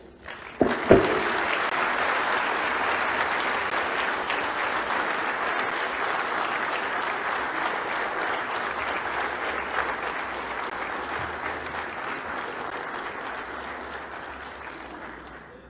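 Sustained audience applause at a lecture by Professor PLO Lumumba on democracy in Africa, starting with a sharp burst and then holding as a dense, steady roar of clapping that slowly tapers toward the end, with no talking over it.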